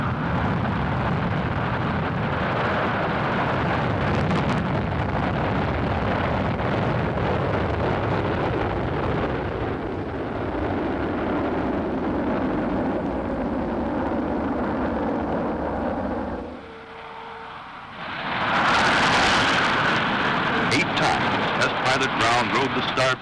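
F-104 jet launching on takeoff, a continuous loud roaring rumble that holds steady, drops briefly, then surges back with a harsher blast, heard close with a voice speaking over parts of it.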